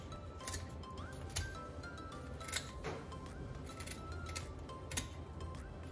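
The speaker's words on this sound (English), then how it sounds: "First, I like to cut off the fins." Kitchen scissors snip the fins off a raw nodoguro fish: a series of short crisp cuts and clicks at an uneven pace, close up over a steady low background hum.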